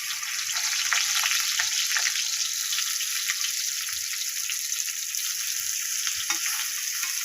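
Small mayá fish wrapped in bottle gourd leaves fry in plenty of oil in a wok, giving a steady bright sizzle throughout, with a few faint soft knocks underneath and no talking.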